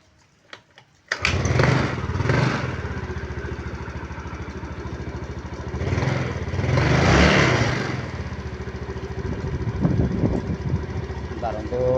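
A Yamaha Mio Sporty scooter engine, run without a battery, catches after a short silence and settles into a steady idle that swells in revs twice. The engine is close and loud.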